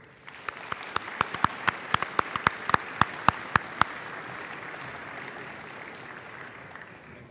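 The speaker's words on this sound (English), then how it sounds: "One last round of applause for our award winners." An audience at a regimental awards ceremony gives award winners a round of applause, steady clapping with sharp loud claps near the front that fades out over several seconds.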